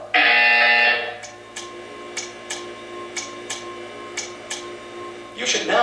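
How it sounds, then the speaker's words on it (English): A loud electronic buzzer from the video game Portal 2 blares for about a second, followed by a series of sharp evenly spaced ticks, then a second buzz starts at the end. "You will hear a buzzer. When you hear the buzzer, stare at the art."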